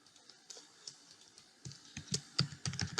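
Fingers type a certificate password on a computer keyboard in quiet surroundings, with soft scattered key clicks at first that turn into a quicker, louder burst of taps toward the end.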